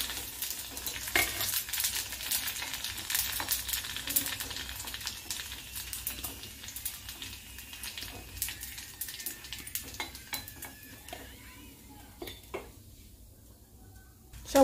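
Phuchka fry in hot oil in a wok, giving a steady crackling sizzle broken by scattered sharp pops and scraping stirs that thin out toward the end, close up.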